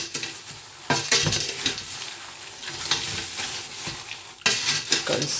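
Popcorn stirred with sugar in a pot, a steady close scraping and rustling of kernels against the metal with a faint sizzle throughout, no talking.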